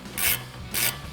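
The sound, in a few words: ratchet with 11mm socket tightening a brake line bolt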